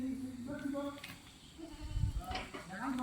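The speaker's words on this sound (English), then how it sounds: "These are goats." Goats on a farm in Nigeria bleat in several drawn-out, wavering calls near the start and again near the end, with a voice and some clattering in between.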